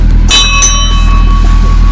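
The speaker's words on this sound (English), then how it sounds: "I think you should ring the bell. Let's have a ring." A bell on a river fishing boat is struck once and rings out loud and clear, its tone decaying slowly over a steady engine drone.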